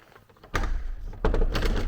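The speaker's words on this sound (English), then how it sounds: "This door's quite heavy." A heavy church door opens with a deep thunk, followed by a second low clunk about three-quarters of a second later, both close and fairly loud. There is no talk.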